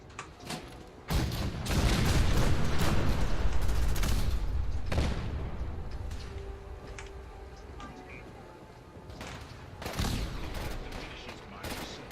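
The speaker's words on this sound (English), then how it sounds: "The cannons are ready. Fire at will." Cannon broadside in the video game Fallout 4: a run of loud, overlapping blasts that swell into a dense, rumbling barrage, then thin into lingering reverberation before a fresh burst near the end.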